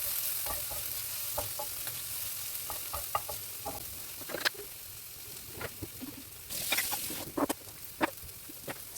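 Chicken curry with cheese cubes melting in a pan is being stirred, with quiet soft sizzling under repeated close scraping and tapping of the utensil, some quicker bursts near the end.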